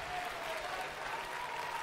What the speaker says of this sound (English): Look at her with her little golf clap